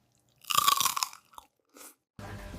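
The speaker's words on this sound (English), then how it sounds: "Now the spicy cube, listen to this crunch." A crisp, close crunch of biting into a spicy kohlrabi cube, followed by a few softer chewing sounds and short pauses.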